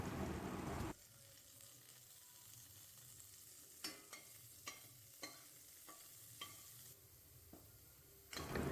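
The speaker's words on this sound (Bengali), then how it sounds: "এখানে ফার্স্ট অ্যাড করছি বাটার কারণ আমি বাটার দিয়ে ম্যাগিটা বানাবো" Butter sizzling in a hot pan while Maggi noodles are made, a steady frying hiss under a series of sharp utensil taps and scrapes against the pan, with louder sizzle bursts at the start and end.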